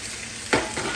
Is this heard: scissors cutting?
no